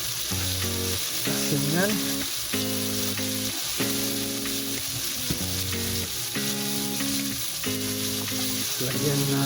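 Chicken sizzles as it is sautéed in a pan for sinigang, a steady frying hiss that runs under loud, rhythmic background music for the whole stretch.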